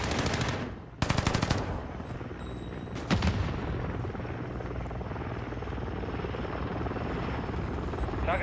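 An overwatch support helicopter in Call of Duty: Modern Warfare II thumps steadily in the background while sharp bursts of gunfire break out at the start.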